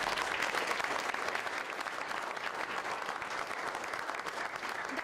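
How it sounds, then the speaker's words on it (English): Steady round of applause from the audience at a school board of trustees meeting, a broad, even wash of many hands clapping at moderate distance throughout. "So please, another round of applause."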